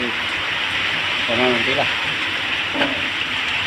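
Heavy rain pours down steadily in Kuching, a dense, continuous hiss close by, while someone speaks briefly over it.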